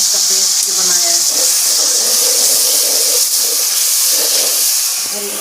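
Garlic and ginger paste going into a hot pan of browned onions and tomatoes gives a steady, close hiss and sizzle throughout, with faint voice sounds underneath.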